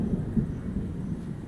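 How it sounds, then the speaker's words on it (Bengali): Distant thunder rumbles low and steady after heavy rain in hilly countryside, a continuous deep roll with no voices. "মেঘের গর্জন শুনতেই পাচ্ছ"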